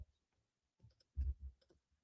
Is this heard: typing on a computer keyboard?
yes